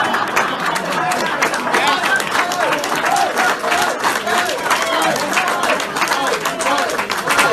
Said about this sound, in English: First off is the audience clapping, right?